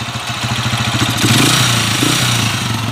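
Honda TMX155 motorcycle engine running rough and noisy before an overhaul, with a steady close-up idle throb that picks up briefly partway through.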